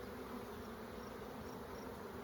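Honey bees buzzing at a hive with brood boxes, a continuous dense hum, steady and moderately close with no pauses.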